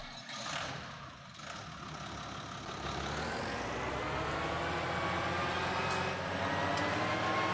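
Steady engine drone of a newly bought tractor in Farming Simulator 19, with layered harmonic tones holding loud and constant throughout, no talking over it.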